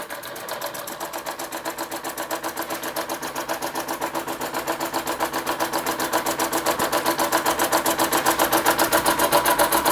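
An Empco B-43 model steam engine runs with a fast, even mechanical chuffing beat, a rapid rhythmic clatter that builds slightly louder over ten seconds, close up and alone.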